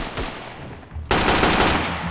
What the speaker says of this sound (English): I have this belt-fed machine gun